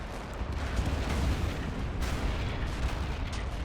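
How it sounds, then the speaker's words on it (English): Mortar fire thumps continuously in a World War II combat video game with a StuG assault gun nearby, a dense, rumbling barrage of booms and gunfire with no clear gaps, moderately loud throughout. "Mortars in the back doing cleanup."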